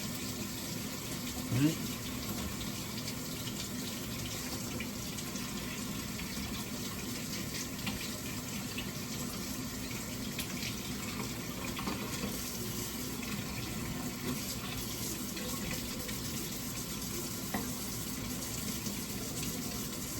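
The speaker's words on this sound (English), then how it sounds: "Just washing off my turmeric and get the skin off it." Tap water runs steadily into a sink as fresh turmeric root is rinsed and scrubbed, a constant close gush with a few faint knocks.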